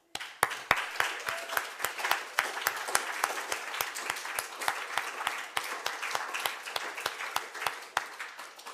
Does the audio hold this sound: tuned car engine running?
no